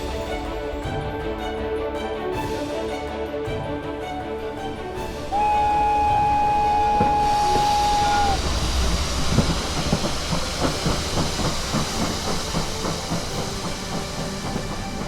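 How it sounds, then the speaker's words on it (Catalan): A steam train pulling out of a station at the Mallorca railway museum, starting with a sustained hiss of steam and a long whistle-like tone, then rhythmic clattering of wheels over rails as it gets moving. "Passatgers, el tren a Palma és a punt de sortir"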